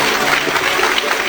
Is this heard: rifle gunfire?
no